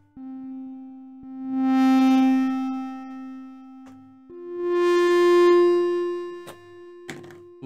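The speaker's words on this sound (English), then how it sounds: "hear the echo as we turn this up" Two sustained synth notes from a Nintendo Labo cardboard piano ring out with the reverb turned up, each swelling then trailing into an echoing tail, with a few soft thumps from the pressed keys between them.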